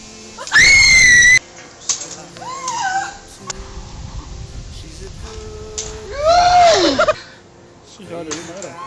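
A person on a rope swing at the Muraste viewing platform in Estonia lets out loud, piercing screams in two long bursts, with other voices and excited chatter around them.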